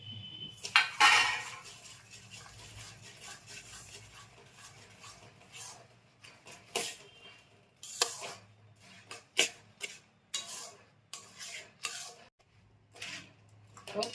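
Cumin and peanuts are stirred in a pan with a metal utensil, giving repeated scraping clinks and knocks of utensil against pan in uneven bursts, close and fairly loud, with no talking.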